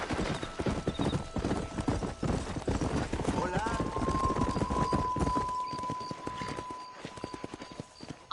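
Horse hooves gallop in a rapid clip-clop rhythm during a ride in the Wild West game Red Dead Redemption, close and continuous, with a whinny partway through and voices talking over the hoofbeats.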